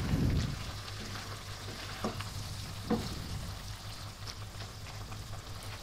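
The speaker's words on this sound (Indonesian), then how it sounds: "Aduk-aduk lagi semua biar tercampur rata." Stir-fried vegetables for capcay stirred in a hot pan, steady sizzling frying noise with a few soft utensil scrapes and clinks, fairly quiet and alone.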